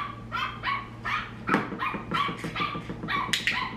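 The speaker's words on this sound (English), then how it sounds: "I just play dogs barking." Recorded dog barking played through a TV from YouTube fills the room with a run of rapid, fairly clear barks and yips, steady and moderately loud, with no talking over it.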